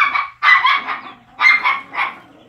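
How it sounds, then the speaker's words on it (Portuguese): Dogs bark at chickens in a yard, sharp repeated barks coming in two close bursts of several yips each, loud and near with brief pauses between. "Eles latem, latem igual doido, ela não tá nem aí."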